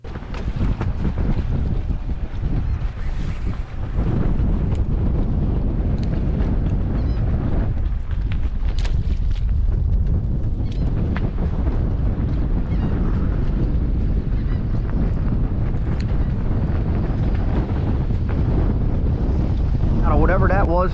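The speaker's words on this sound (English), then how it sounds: "these winds were at least 20 to 25 mile an hour gusts" Strong, gusty wind of 20 to 25 mph gusts buffets the microphone throughout, a constant low roar with rushing surges, over faint water and boat noise while flounder fishing.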